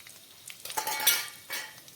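Ten small cut garlic cloves drop into hot oil in a pan for shapu bhaji, giving a short burst of sizzling with metallic clinks from a utensil. The sound is brief and moderately quiet.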